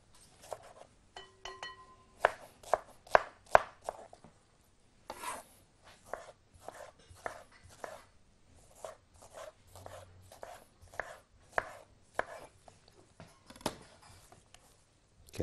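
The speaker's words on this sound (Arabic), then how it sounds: "خوخ اهوت بنقطعه عندنا مكعبات" Knife chopping peaches into cubes on a cutting board, a long irregular series of crisp close taps and knocks, some quick bursts and some spaced out, quiet and without talk.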